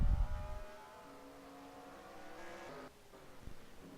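A sim racing car at Martinsville spins out during a Whelen Series race, its engine note dropping and wavering while faint tire scrub follows, with a steady drone of other cars circulating in the background.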